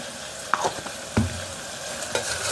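Tomato and onion with added salt frying in a pan for paneer biryani make a continuous sizzle, broken by three distinct spatula scrapes and knocks as the mixture is stirred.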